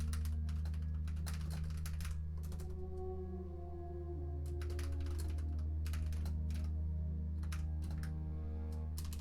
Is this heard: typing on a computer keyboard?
yes